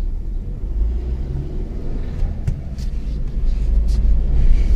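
A Chevrolet Aveo with a stiff clutch pedal idles steadily with a low, continuous engine rumble that swells slightly toward the end, heard close with no talking.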